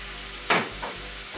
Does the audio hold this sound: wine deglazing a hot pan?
yes